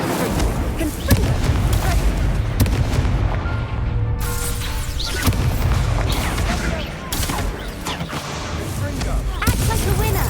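Fire spell cast in Hogwarts Legacy, loud crackling bursts and booming whooshes layered over continuous dense combat noise, with repeated sharp impacts throughout.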